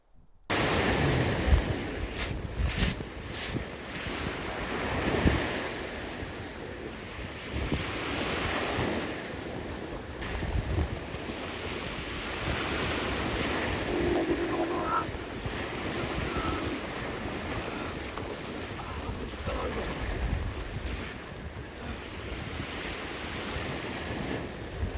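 Sea waves wash and surge close by in a steady broadband roar, with wind buffeting the microphone throughout and a few louder splashes near the start as someone wades into the water.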